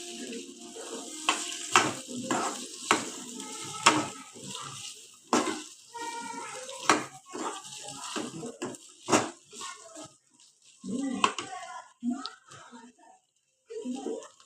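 Green peas are stirred and fried in oil, soft sizzling broken up by frequent scraping and clacking of a spoon against the pan, close and intermittent, with a voice speaking over it.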